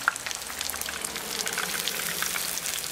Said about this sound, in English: And you just keep on frying them.